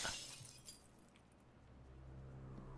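Glass smashing in the video game Payday 2, a sharp shattering burst at the start that fades into a low, steady background rumble; no speech.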